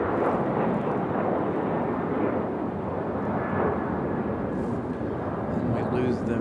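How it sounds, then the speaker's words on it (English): A Delta Boeing 737-900 airliner at Raleigh-Durham International Airport gives off a broad, continuous jet roar that holds steady at a moderate distance throughout. "Instead of bringing us the A321 MAS Neo, they brought us the 737-900"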